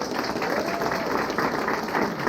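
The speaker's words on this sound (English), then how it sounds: "Can we clap it up for the veterans" An audience applauds veterans at a meet-the-candidates event, a steady wash of clapping from a crowd that holds for a couple of seconds.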